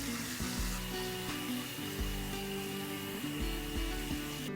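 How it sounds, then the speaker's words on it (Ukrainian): Yeast doughnuts sizzling steadily in hot oil, with a dense continuous crackle and occasional stirring clinks and scrapes from the pan. "Помішую, щоб з усіх сторін вони були одинаково просмажені."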